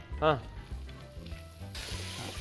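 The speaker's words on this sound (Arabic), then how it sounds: "بعد ما قلينا اللحمه بدقيقه واحده ننزل الان بزيت السمسم على إدام اللحمة" Veal frying in sesame oil with sliced onion, a soft steady sizzle under someone talking, with a short tonal squeak near the start and a slight rise in hiss toward the end.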